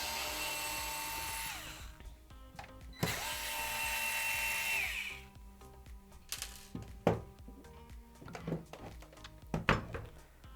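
Electric screwdriver with a T9 bit backing screws out of an Xbox Series S console, two short close whirring bursts followed by light clicks and taps as the screws come free.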